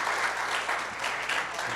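An audience claps steadily through a short burst of applause for a guest at a talk on branding and personal marketing, dense and even, with no voices rising above it.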